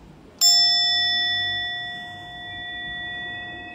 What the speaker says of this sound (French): Je sonne seulement la cloche.